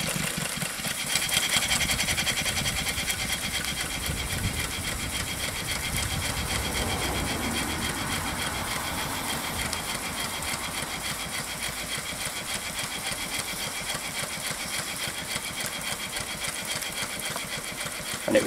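A 2-inch scale Allchin single-cylinder traction engine runs steadily, giving a fast, even mechanical chuffing and clatter at close range throughout, with no talking.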